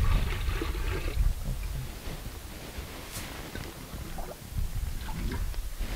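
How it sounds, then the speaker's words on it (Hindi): Water is poured into a clay pot while preparing matka compost: a continuous gurgling, splashing stream with some irregular sloshing, close by and steady for several seconds. "सबसे पहले मटके में पानी डालते जी"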